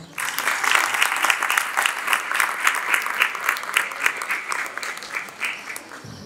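Sustained audience applause fills a school graduation ceremony hall, dense and steady for about six seconds before thinning slightly at the end.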